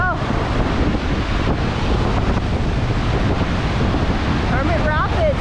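Roaring whitewater of Hermit Rapids on a river, a dense continuous rushing wash heavily buffeted by wind on the microphone. It is loud and unbroken throughout, with faint whistle-like tones near the start and end.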